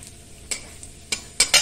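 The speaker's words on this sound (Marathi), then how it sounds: "हे टाकल्यानंतर आपण ते जरा भाजून घ्यायचं" Malvani masala spices are dry-roasted in a pan, giving a soft steady background hiss broken by four brief scraping strokes of a spoon against the pan, the last two louder and close together.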